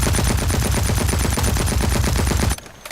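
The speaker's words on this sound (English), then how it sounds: "I pull the trigger, empty the clip." A heavy assault rifle in a video game fires on full auto until the magazine is empty: a dense, loud, rapid burst lasting about two and a half seconds, then it stops abruptly.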